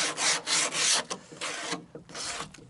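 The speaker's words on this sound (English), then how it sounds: "I'm going to do it here as well" Abrasive sanding strokes along the edge of a carbon fibre car splitter, a series of rough back-and-forth rasping passes, close and fairly loud, with short gaps between strokes.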